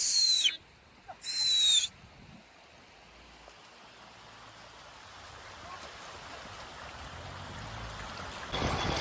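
Floodwater flows after a short burst of unseasonal rain, a steady, low rushing wash heard throughout, with two shrill bird-like calls near the start.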